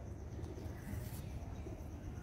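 Pigeons cooing in a fancier's loft in Lahore, a soft low burbling that runs continuously under a noisy, crowded background.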